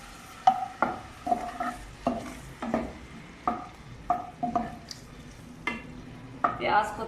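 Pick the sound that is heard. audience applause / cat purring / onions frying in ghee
onions frying in ghee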